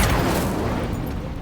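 An Incendio fire spell blasts out in the Hogwarts Legacy video game, a loud, close whooshing burst that decays quickly over about a second and a half.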